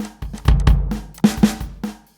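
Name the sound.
FBC drum machine plugin playing a drum pattern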